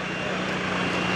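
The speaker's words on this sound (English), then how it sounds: "Hackensack UNC over here is warming up their Air Red 1 helicopter." A Hackensack UNC Air Red 1 helicopter warming up at the Greenwood Lake airshow, a loud continuous engine and rotor roar heard close and steady throughout.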